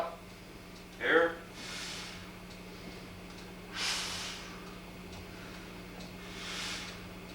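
Breath out during a guided breathing exercise: a few soft, airy exhalations at intervals, faint against a quiet room hum, with no talking.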